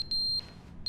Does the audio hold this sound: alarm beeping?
yes